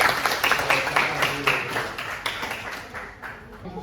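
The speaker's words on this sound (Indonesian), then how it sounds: "Oke, beri aplaus dulu untuk kelompok 2." A classroom group claps for the second group after their presentation, a short burst of many hands applauding that fades over a few seconds.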